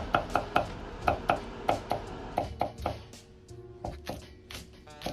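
A knife chops a small piece of ginger into slices on a cutting board, a steady run of sharp, close knocks that pauses briefly and then resumes more sparsely.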